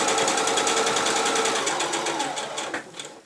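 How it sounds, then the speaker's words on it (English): A sewing machine stitches fabric for a cushion cover, a fast, rhythmic close-up mechanical whirr of the needle that runs steadily and then slows and stops near the end. "This is on a small stitch just across the end of the fabric, and then sew straight down to the first mark."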